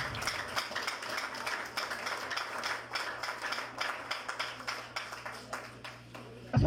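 A church congregation applauds in a long, steady run of clapping with distinct hand claps, fairly faint and roomy, settling toward the end before a louder final clap.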